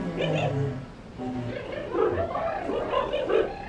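Short bark-like yips imitating a dingo, voiced through buzzing lips, a few rough bursts in a row, close up with no other sounds around them.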